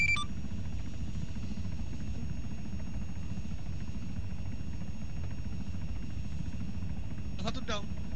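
A military helicopter in Arma 3 settles in to land, its rotor and engine a dense steady roar filling the whole stretch, with faint radio-style voices and a short chirp near the end.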